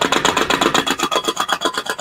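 A homemade RC engine sound generator, a dollar-store container with two holes drilled in the bottom, knocks steadily at low speed with a fast, even rattling beat that stays loud and close throughout.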